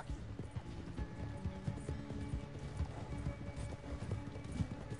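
Rhythmic hoofbeats of a horse galloping in the video game Red Dead Redemption 2. The quick, steady clip-clop runs throughout at a fairly low level, with occasional faint snorts.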